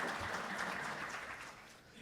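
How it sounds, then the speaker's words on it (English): Applause fills a conference hall, a dense steady patter of many hands clapping that fades slightly toward the end. "Wielkie brawa."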